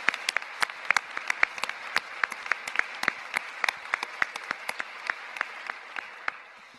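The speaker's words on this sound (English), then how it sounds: "please join me in a round of applause for this workforce" Applause breaks out at a formal defense intelligence ceremony, a thin scattering of distinct hand claps from a modest audience, moderately distant and continuing for several seconds before tapering off.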